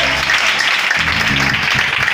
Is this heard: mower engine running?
no